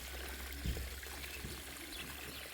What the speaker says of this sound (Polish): Uzupełniam ubytek wody, który powstał podczas czyszczenia.